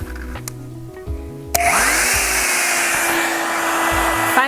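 A Revlon One Step hair dryer switches on after a few seconds of quiet, then blows with a steady, loud, airy whir and motor hum that holds to the end.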